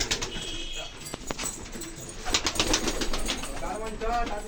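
Giribaz pigeons at a home loft coo softly with bursts of wing flapping, close by, while people talk in the background.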